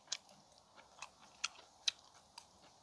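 Crisp crunching bites of pork foreleg grilled on elvan stones, a few sharp crackly chews spaced out over quiet background, close up.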